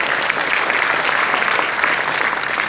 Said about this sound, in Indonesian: Tepuk tangan untuk Anda sekalian.